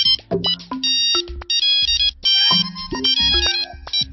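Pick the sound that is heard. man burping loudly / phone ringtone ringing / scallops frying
phone ringtone ringing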